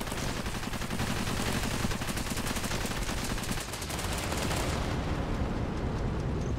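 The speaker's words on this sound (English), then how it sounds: "Carpet bomb incoming." Carpet bombing in Cepheus Protocol, a dense, continuous roar of rapid explosions and rumbling impacts that stays loud throughout and eases briefly near the end, with no voices.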